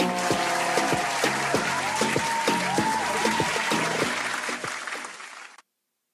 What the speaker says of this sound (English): A round of applause for everyone involved.